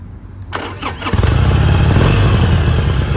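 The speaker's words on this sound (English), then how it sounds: "I'll just fire it up." A Harley-Davidson Sportster Iron with standard exhaust cranks over and fires up, the starter whirring briefly before the engine catches into a loud, steady, deep rumbling idle close by.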